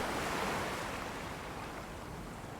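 Sea waves in an Attack on Titan anime scene, a broad steady wash of surf slowly fading, with no voices over it.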